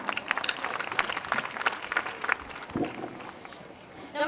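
Audience applause at a school annual day event, a scattered burst of clapping that is strongest early and thins out, followed by quieter background noise and some talking.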